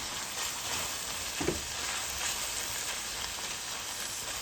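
Homegrown garlic frying in a pan, a steady, even sizzle running throughout with a brief stir or clink near the middle, close and moderately loud, with no talking.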